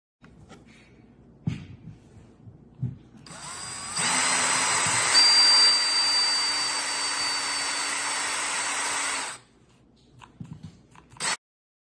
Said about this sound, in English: I drilled right through the sides, like into the shoulder area, straight across.